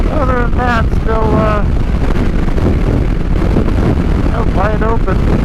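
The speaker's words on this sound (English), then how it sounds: "It is definitely windy out here." Heavy, constant wind buffeting roars across the microphone on a motorcycle ride through open ranch country, with a voice breaking through intermittently beneath the rush.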